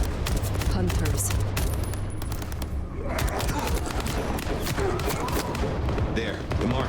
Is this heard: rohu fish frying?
no